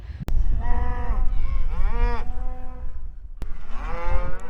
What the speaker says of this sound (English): Got a cattle drive going right through camp.